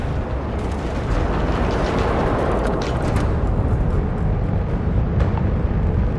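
Homing missile launches and explosions during starship space combat in the Starfield video game: a dense, continuous, loud roaring rumble of blasts with no pauses.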